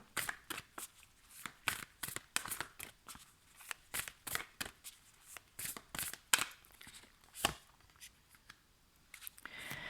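A deck of lunology oracle cards is shuffled by hand in a quiet room. Close, papery riffling comes in repeated quick bursts with short pauses between them over about ten seconds.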